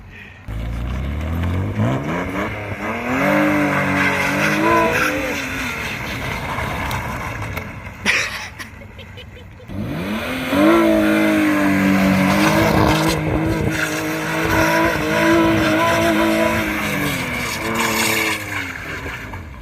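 A car at a late-night mountain run car meet slides under a yanked e-brake with a rubbing tire, its engine revving loud and close in two long sweeping pulls with rising and falling pitch, tire noise smeared throughout and a brief lull between.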